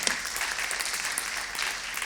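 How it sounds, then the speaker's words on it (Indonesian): A church congregation applauds together during a Sunday worship service, a steady, dense crackle of many hands clapping that fills the room for about two seconds without letting up. "Boleh tepuk tangan sama-sama?"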